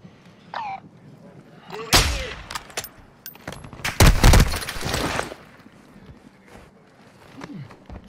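Gunfire in the video game Warzone, with sharp shots and a dense burst of automatic fire mid-clip, loud and close, between quieter stretches with brief game sounds.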